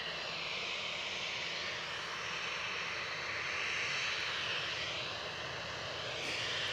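An EasyJet jet airliner at Edinburgh Airport produces a faint, distant, continuous engine roar with a soft hiss and low rumble that swells slightly midway.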